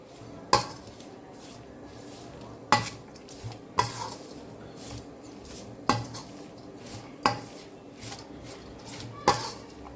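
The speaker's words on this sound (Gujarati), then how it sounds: "બધા વેજીટેબલને આપણે પહેલા મિક્સ કરી લેવાના છે" Vegetables are tossed with oil and salt in a bowl, giving a steady rustling stir punctuated by about seven sharp spoon clinks against the bowl, close and alone.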